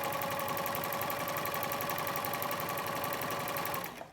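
Elna Pro 5 DC sewing machine shirring fabric with elastic thread, a steady, fast mechanical whirr with rapid needle clatter running continuously at close range before stopping abruptly near the end.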